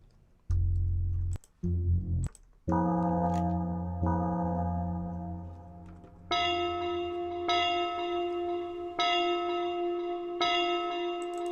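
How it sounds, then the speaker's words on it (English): Bell tones are played live in a music stream: single struck notes ring out, then repeated strikes climb higher in pitch, falling into an even rhythm with each note decaying before the next. "Bells."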